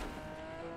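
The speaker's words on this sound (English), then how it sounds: "this car just goes flying" A car in the video game Fortnite drives steadily, its engine droning loud and close throughout with a faint tire squeal, no voices present.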